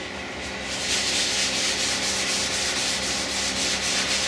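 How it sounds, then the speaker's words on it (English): Yorkshire grit abrasive paste is rubbed by hand onto turned wood, a close, continuous gritty hiss with a soft rhythmic back-and-forth pulse and no voices. "I'm just going to work some Yorkshire grit liberally in by hand over the"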